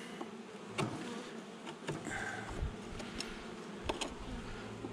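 Honeybees buzz in an open hive box used for queen rearing, a dense steady hum of many bees close by with occasional faint knocks and clicks, without speech.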